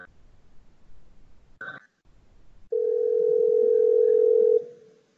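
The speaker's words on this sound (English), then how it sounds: "what you're going to hear is the Google Assistant actually calling a real salon to schedule the appointment for you." Phone line ringing as Google Assistant places a call to a real salon, a brief tone blip followed by one long steady ring tone, clear over faint background.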